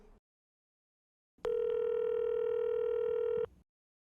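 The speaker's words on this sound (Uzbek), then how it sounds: "Qolib ketmasin, telefon qil." A single steady electronic telephone tone rings out clearly for about two seconds after silence as a call is placed, in a comedy detective film scene; no speech.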